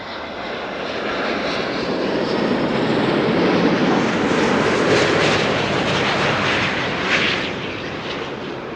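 A Delta Air Lines Airbus A350 on Flight 136 from Detroit lands at Amsterdam Schiphol, a loud, sustained jet roar that swells toward the middle and eases off, with no talk over it.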